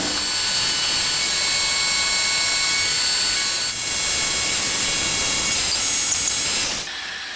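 Slot drill milling a Moto Guzzi Le Mans III custom motorcycle top yoke on a mill, a steady close whine of cutting metal running throughout with high tonal ringing, stopping abruptly near the end.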